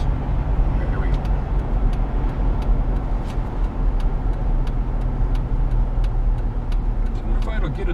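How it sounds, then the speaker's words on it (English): A Jeep JK's engine runs steadily as the vehicle drives along a road, a constant low rumble with road noise throughout and faint voices over it. "Turn up here and go through the gears just for a second"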